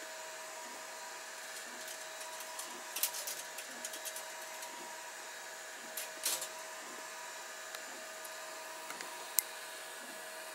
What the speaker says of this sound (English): That is 3D printing alright.